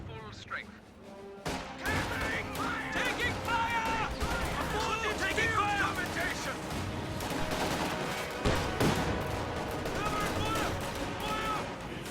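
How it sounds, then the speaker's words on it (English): Raketenwerfer rocket hitting an AA half-track in a World War II strategy game, heavy explosions and bursts of gunfire layered in a dense battle din, with a commentator talking over it. "AA half-track takes a hit from the Raketenwerfer."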